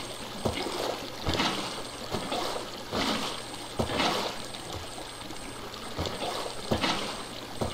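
Water flows and trickles in Minecraft as a water line is pushed forward on a farm, with repeated splashy surges every second or so and faint game noises between them.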